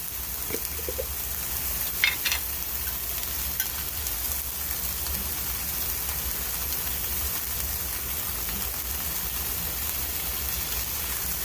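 Chicken and salsa sizzle steadily in a hot pan, a continuous crackling hiss with a few brief scraping stirs near the start and no talking.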